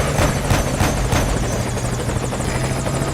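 Military transport helicopter in Metal Gear Solid V: Ground Zeroes, taking fire and damaged near a landing zone; loud steady rotor thump and engine drone dominate throughout, with no voices.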